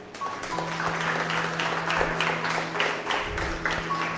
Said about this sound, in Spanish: ¿Cuántos le pueden dar palmas al Señor?